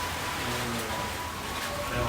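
Rain beginning to fall outside a house, a steady wash of patter with faint hum and murmur beneath, continuing evenly throughout.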